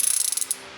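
A new 3/8-inch swivel head ratchet with 90 teeth clicks rapidly as it is turned, a fast close run of fine crisp pawl clicks that slows and ends after about half a second.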